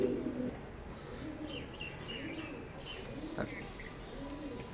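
Teddy pigeons of an imported Oman bloodline coo softly in a loft, low rolling coos repeating over a faint background hum, with an occasional higher chirp.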